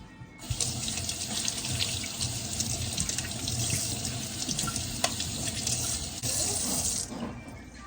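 Tap water runs steadily over soaked, expanded sea moss being rinsed clean of salt in a sink, a continuous close splashing rush with faint drips and no talk.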